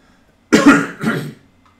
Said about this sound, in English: I've still got a bit of a cold at the moment, which is why I'm coughing.